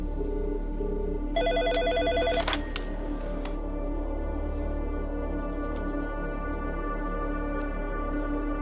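A telephone rings with a bright, repeating electronic tone in a film scene, loud for the first couple of seconds and then giving way to a low hum with faint clicks.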